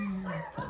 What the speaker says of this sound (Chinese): 这小泰迪这么能叫，真是不行。